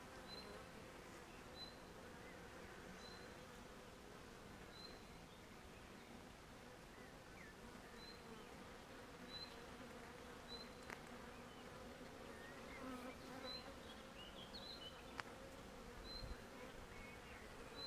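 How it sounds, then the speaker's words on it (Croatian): Honey bees buzzing around an open beehive during an inspection, a dense steady drone of many insects close by, quiet and continuous with faint scattered rustles. "Pustimo da se pčele malo razrede."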